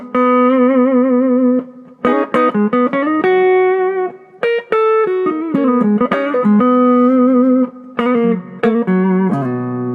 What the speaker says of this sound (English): Give you an idea with the reverb backed up here.